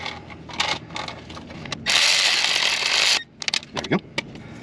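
A crankshaft position sensor is tightened on a Kia Soul, with close metallic clicks and a sustained ratcheting burst from a hand tool, followed by a few scattered taps.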